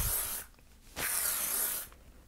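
Two close hissing bursts of hairspray from an aerosol can, each about a second long, separated by a short pause.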